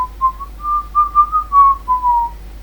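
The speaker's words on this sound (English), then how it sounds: "I'm going to whistle a discordant melody that only one creature can hear" A single person whistles a discordant, wavering melody for a tabletop fantasy game, a thin clear tone sliding up and down in short separate phrases, close and alone.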